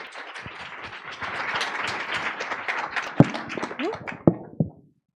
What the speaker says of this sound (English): Vampi, please come and join me and give her a round of applause.